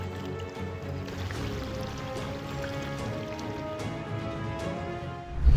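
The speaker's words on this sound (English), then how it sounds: "Heavy rain can overwhelm drainage systems, sending water flooding into neighborhoods and streets." Heavy rain falling steadily, a dense hiss of drops and dripping water pattering on surfaces, constant throughout with a sudden louder splash or rumble at the very end.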